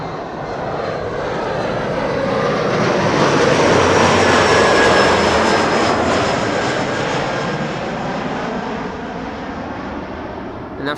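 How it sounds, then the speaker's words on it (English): KLM Embraer 175 jet arriving at Amsterdam Schiphol, a loud broad engine roar with a thin whine that swells as it passes close, then eases off, no voices over it. "Here we have an Embraer 175 KLM flight 1042 arriving from Bristol."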